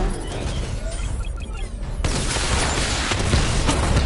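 A missile barrage in the Batman: Arkham Knight video game, with a sustained roar of rapid explosions and rumbling impacts that grows louder and denser partway through, loud and continuous with no talk.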